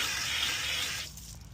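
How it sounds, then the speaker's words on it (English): Adams tar remover sprayed onto car paint, a steady hissing aerosol spray lasting about a second before stopping, close and fairly loud. "Now I'm going to take Adams tar and spray this down."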